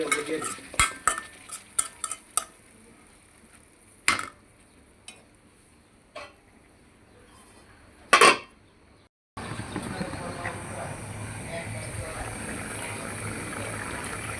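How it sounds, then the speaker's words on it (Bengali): Okra fried lightly in a pan after being cooked with turmeric, chili and salt. Clinks of stirring and utensil knocks come first, then a steady, fairly quiet sizzle. "আমার ভেন্ডিটাকে একটু হালকা ভেজে নিই"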